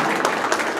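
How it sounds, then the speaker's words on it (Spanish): Brief burst of audience applause, a dense wash of many hands clapping at once, loud and sustained for under a second. "Fuertes los aplausos para nuestra amiga"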